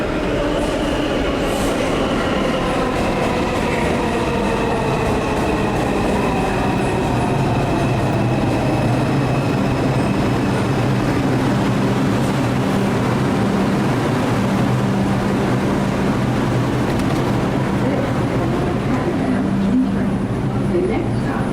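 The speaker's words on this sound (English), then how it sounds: "Oh, here's the train." A subway train pulls into the busy Atlantic Avenue–Pacific Street station, a loud sustained rumble of wheels and rail noise with squealing tones rising and falling for the full stretch.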